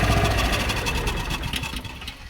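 A John Deere Gator engine idles roughly because it is running short of fuel, a steady close mid-range engine drone with uneven knocking pulses that fade slightly toward the end.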